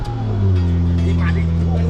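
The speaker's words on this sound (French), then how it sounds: "Écoute le bruit de la voiture." A car's engine idles close by with a loud, steady, rumbling drone, and a person's voice is faintly heard under it.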